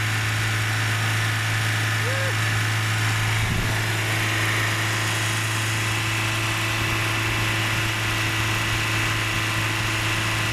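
A small car engine with a minor coolant leak runs at a constant steady drone with a faint high whine, close and even throughout, without any speech.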